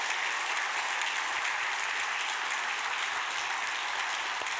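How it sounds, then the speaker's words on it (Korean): A Korean church congregation at Sunday worship applauds together, a continuous, even wash of many clapping hands heard from some distance, fairly faint and steady throughout. "우리 방도영 권사님을 위해서 우리 임차게 감사하다고 박수 한번 하겠습니다"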